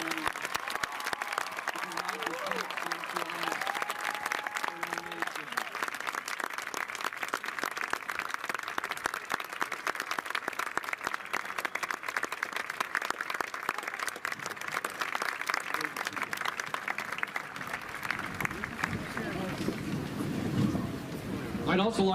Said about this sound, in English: join me in applauding these young people